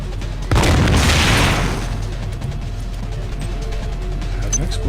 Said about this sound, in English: Had an explosion.